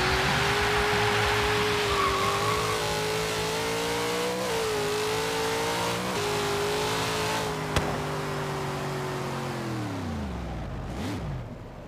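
Drag-tuned two-wheel-drive AMC Gremlin in Forza Horizon 3 holds a loud, steady high-speed engine drone with slight pitch wobbles, then winds down sharply near the end.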